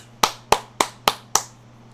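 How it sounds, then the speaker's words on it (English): Five crisp hand claps at an even, unhurried pace, sharp and close, with no talking. "Clap."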